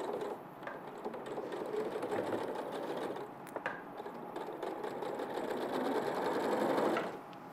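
A sewing machine stitching on a sewing show set, its fast steady mechanical whirring close and continuous for several seconds before stopping abruptly near the end.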